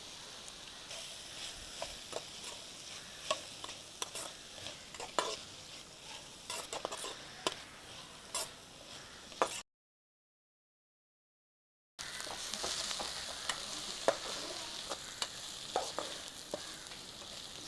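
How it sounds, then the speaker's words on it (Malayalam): Ten to fifteen chopped small onions fry with salt in a pan for a mussel roast: a soft, low sizzle broken by spatula scrapes and stirs, with a brief silent gap partway through. "ഇപ്പോൾ ഉപ്പ് ചേർത്ത് വഴറ്റാം."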